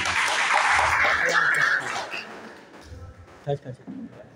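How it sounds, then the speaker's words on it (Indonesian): A school audience at a leadership talk by the principal of MA Darul Faizin claps in a brief, full burst that fades after about two seconds, giving way to someone speaking. "tepuk tangan untuk kita"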